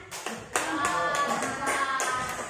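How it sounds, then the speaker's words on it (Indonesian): A brief burst of hand clapping from a small group in a classroom physics lesson, several seconds of dense, fairly close applause without talk. "Beri aplaus dulu."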